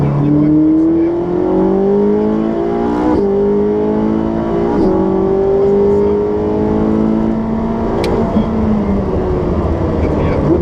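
A Ferrari 458 Special accelerates hard with a loud, close engine whose rising tone climbs steadily through the gears, with brief shifts along the way.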